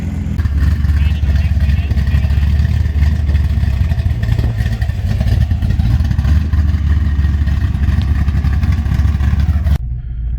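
A naturally aspirated GT car or cammed LS engine roars loud and continuous at a drag racing event, heavy low rumble with clatter throughout, stopping abruptly just before the end.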